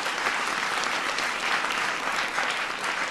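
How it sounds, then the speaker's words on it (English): Applause from an audience at a speech by Obama, a continuous wash of many hands clapping, dense and steady with no voices on top. "Give John a big round of applause"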